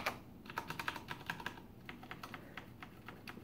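Rapid typing on a Corsair Strafe mechanical keyboard, with a continuous run of sharp, close key clicks and bottoming-out clacks at an uneven rhythm, heard alone.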